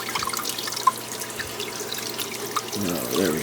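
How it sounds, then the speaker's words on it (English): Water flowing steadily at the intake of a fish tank pump in a home fish room, a close continuous trickling and splashing that grows fuller and stronger near the end. "we'll get the water flowing a little more"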